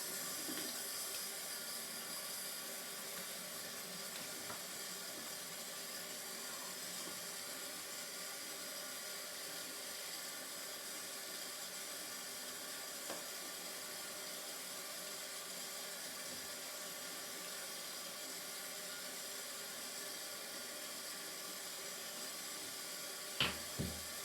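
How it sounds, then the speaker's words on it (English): Water runs steadily from a bathroom tap while the face is wetted before a wet shave, a constant hiss with a few faint splashes near the end. "I'm getting going here, wetting the face."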